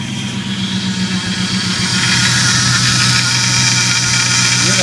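Power steering pump on a Dodge Ram 1500 running while the steering wheel is turned, a loud, steady mechanical engine drone with a continuous hum and slight whine close by, no talk over it.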